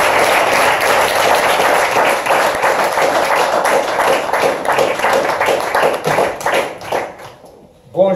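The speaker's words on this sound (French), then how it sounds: "je vais vous proposer un tonnerre d'applaudissements pour le professeur Tony Buzan" A conference audience at a French mind mapping championship gives a long burst of loud, dense applause for professor Tony Buzan, steady clapping that fades out near the end.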